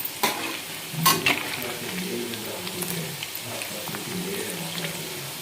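Broiler chicken pieces fry in hot oil for pickle, a soft steady sizzle broken by a few sharp stirring scrapes and clatters against the pan, moderately close and fairly quiet.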